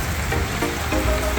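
Steady rain falls at a small resort in the Philippines, a dense, even patter with faint faraway tones over it and no voices.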